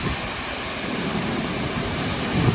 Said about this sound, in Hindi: और ये रहा हम लोग का जंग वाटरफॉल।